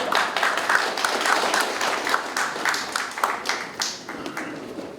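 Audience applause at a Korean security forum seminar welcoming a keynote speaker, a steady dense patter of many hands clapping throughout, fairly loud and continuous with no talk.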